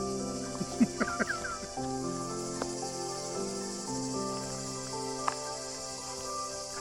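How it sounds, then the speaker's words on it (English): A steady insect drone fills the background, with scattered bird calls and chirps breaking through now and then. "the sheer volume of the cicadas has dropped."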